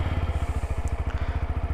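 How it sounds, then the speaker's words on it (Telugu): A 2021 TVS Apache RTR 160 4V motorcycle engine running just after starting, a loud, close, rhythmic low thumping idle pulse with no talking. "So let's start the bike."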